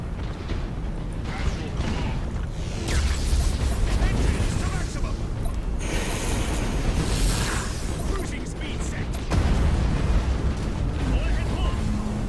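Bombs detonate in the space strategy game Battlefleet Gothic: Armada, producing deep rumbling blasts and mechanical creaks that swell in waves over a continuous low drone, with voices talking over the action.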